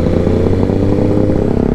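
Two motorcycles run nearby with a loud, steady engine rumble and a faint clattering texture throughout, with no talking.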